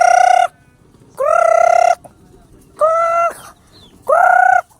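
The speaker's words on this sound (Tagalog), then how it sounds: "Oh, daghan kaya sila manok dere na." Poultry at a rural yard in the Philippines, several loud drawn-out calls in four distinct bursts separated by short pauses, each call harmonic and strained like gobbling or crowing fowl, with no talk over them.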